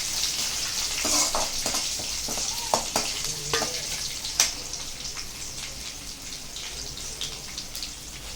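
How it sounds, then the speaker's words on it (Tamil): Cashew nuts frying in a pan for pongal, a continuous close sizzle with scattered sharp crackles and a few stirring clinks, fairly quiet and steady throughout. "முந்திரி பருப்பையும் ஆட் பண்ணிக்கிறேன்"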